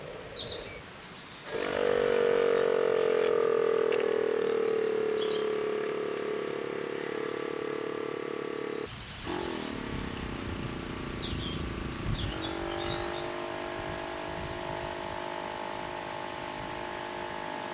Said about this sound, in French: on entend clairement que l'eau est en train de chauffer à l'intérieur